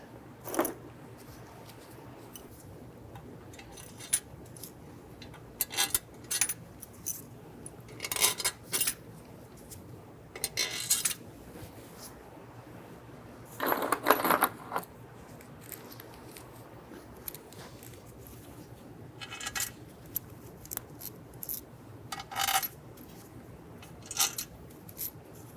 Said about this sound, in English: Let's go ahead and drop our bolts down into place.